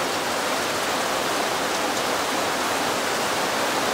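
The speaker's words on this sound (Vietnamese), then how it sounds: "Trời mưa quá trời luôn cả nhà ơi." Heavy rain pours down steadily in a dense, constant hiss with no pauses, loud and close, as if drumming on nearby surfaces, with no voices over it.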